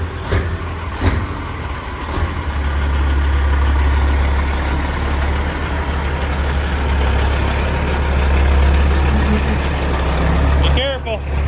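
A red Peterbilt work truck with a Detroit engine rumbles steadily at close range, its deep, constant idle droning throughout with a few brief clanks; voices are faintly present.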